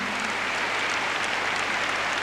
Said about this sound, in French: Et le public l'applaudit